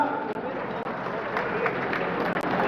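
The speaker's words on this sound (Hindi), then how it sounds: "तो जोरदार तालियां" Applause from a crowd at a ceremony launching a pilgrimage procession, a dense wash of clapping that holds steady with a few brief dips.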